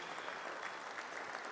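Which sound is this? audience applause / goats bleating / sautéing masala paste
audience applause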